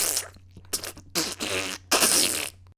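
A voice imitates wet, diarrhea-like farts with the mouth, making several loud, spluttering bursts of different lengths, close and alone.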